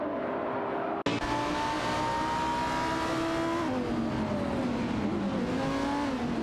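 Lamborghini Gallardo GT3 and Gillet Vertigo race cars in a video game race, engines droning and revving continuously with rising and falling pitch as they compete closely, loud and sustained after a brief cut near the start.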